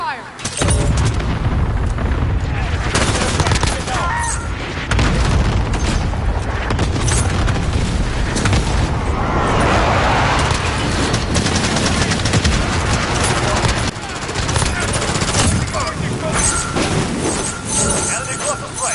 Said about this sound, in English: Cluster strike away.